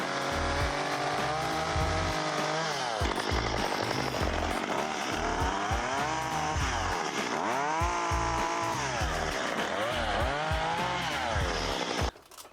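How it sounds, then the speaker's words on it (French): A loud chainsaw runs close by, its engine revving up and down in repeated surges before cutting off abruptly at the end. "C'est la tronçonneuse."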